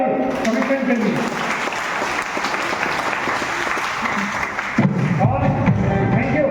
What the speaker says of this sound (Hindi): एक बार जोरदार ताली कमिटमेंट के लिए